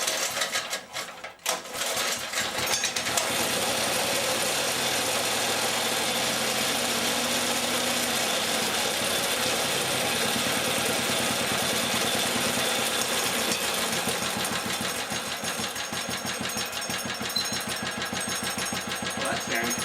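An engine runs with a little choke on. It sputters briefly at the start, then settles into a fast, even, chattering idle close by that holds steady throughout.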